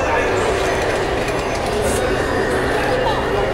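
Metro train running through the Algiers metro, a loud continuous rumble and rattle of wheels on track with rushing air, while people talk over it.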